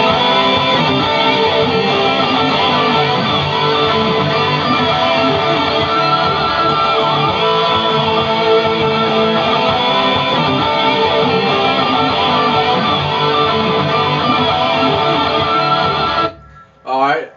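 Two electric guitar solos layered on top of each other over a repeating riff, playing continuously at full, dense volume for about sixteen seconds before cutting off abruptly.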